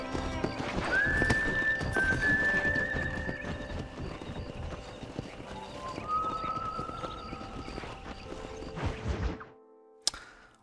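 Horse hooves clip-clop steadily and a horse neighs in Red Dead Redemption, set against music and ambient game sound, with a sharp thwack near the end after the sound drops out.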